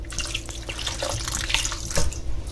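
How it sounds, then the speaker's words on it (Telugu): Water poured from a tap into a pot of soaked tamarind pulp for sweet chutney, a steady close splashing stream running throughout with no talk. "దీంట్లో కొద్దిగా వాటర్ పోసుకుంటున్నాను."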